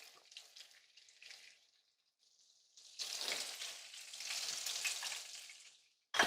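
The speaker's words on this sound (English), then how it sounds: "So let the butter melt." Butter melting in a hot pan for chilli garlic prawns, a close bright sizzle that crackles on and off, then swells into a fuller, sustained frying hiss before a sudden loud burst at the end.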